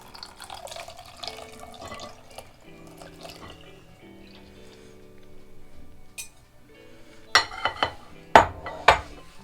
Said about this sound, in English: To that, we're going to gently add our milk.